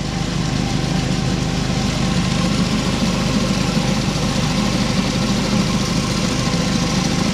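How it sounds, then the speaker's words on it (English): An engine-driven surface cleaner stripping old sealer from a stamped concrete patio: a loud, steady engine drone with a rough low rumble holds unbroken throughout, with no voices. "You can just go a little slower than what you usually would with your surface cleaner."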